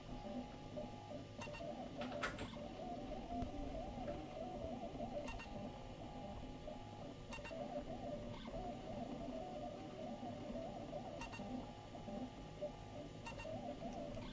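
A 3D printer lays down a plastic rocket ship part at 20% infill, its stepper motors whirring in steady, repeating patterned tones with periodic clicks, continuous and moderately quiet throughout.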